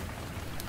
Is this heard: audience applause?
no